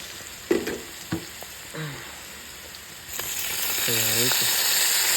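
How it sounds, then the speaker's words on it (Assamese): Boiled pork frying with onions in a pan, a steady hiss that grows louder and denser after a few seconds, with brief voice sounds over it. "এতিয়া আমি মাংসটো ফ্ৰাই কৰিম।"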